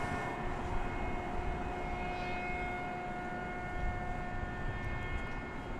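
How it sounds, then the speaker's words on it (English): An American Airlines Airbus A321 arrives from Las Vegas at DFW Airport in the evening, a steady broadband jet roar with faint high whine tones, held at an even level throughout without talk. "There's American Flight 1871 arriving from"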